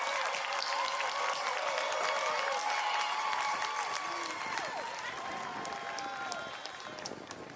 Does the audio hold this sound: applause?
yes